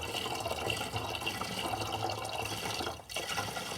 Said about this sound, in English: I'm filling the oil